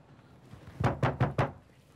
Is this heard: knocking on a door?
yes